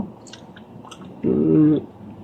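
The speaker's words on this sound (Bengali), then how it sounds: "এত সুস্বাদু এবং এত টেস্টি খেজুর আমি আমার জীবনে প্রথম খাচ্ছি" Seedless Saudi Arabian dates are chewed up close in a few soft, moist bites, followed by a short, tonal hum-like sound.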